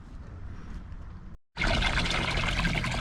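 Water gushes steadily into a homemade small-pond filter, a loud, continuous splashing pour that starts abruptly after a brief quiet trickle and a moment of silence.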